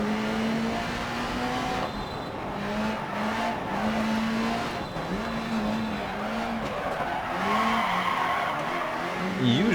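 A rally car in the racing game Dirt Rally slides through a corner, a constant engine drone with gear changes and tire scrubbing under continuous commentary.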